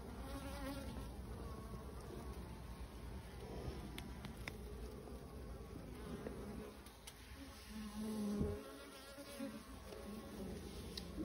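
Honey bees fill an open hive with a steady, close buzzing hum that swells briefly now and then as individual bees fly near.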